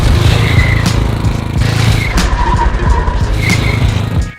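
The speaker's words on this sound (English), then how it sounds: "It's actually another power brake with a slide on the end." A car power-brakes into a slide, its tires skidding and squealing loudly throughout with the engine roaring underneath, the screech continuing for several seconds before cutting off at the end.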